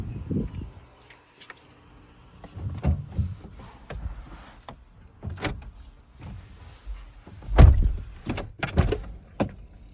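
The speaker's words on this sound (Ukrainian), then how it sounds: "Відкриєш собі двері?" A child opens a car door beside a parked car, with several thuds, clicks and latch sounds spread across the clip, one louder thump near the end, no talking heard.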